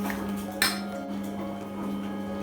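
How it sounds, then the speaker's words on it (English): Broccoli going into a mixing bowl already coated with oil and spice mix for tandoori broccoli, giving one sharp clink against the bowl followed by faint quiet handling sounds in a kitchen. "now we're going to put our broccolis inside."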